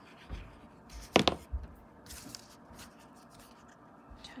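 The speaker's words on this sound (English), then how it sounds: "I am just going to cut out one leaf" Scissors snip through paper while a single leaf shape is cut out for a Christmas card craft, a brief loud burst of cuts standing out among quieter handling rustles, with no voices.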